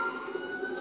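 A steady, wailing emergency siren from a police reality show on TV sounds brief and fairly clear, with a sustained tone and no speech over it.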